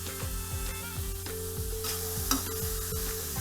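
Onions sizzle softly in a pan over low to medium heat for chicken achari. A utensil stirs them in repeated scraping strokes against a steady low hum.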